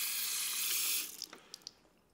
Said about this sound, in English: get your brush wet